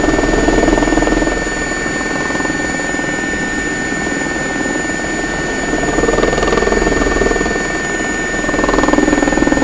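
Continuous helicopter rotor thrum and engine whine from a flight simulation, steady and loud throughout with a constant high-pitched turbine tone.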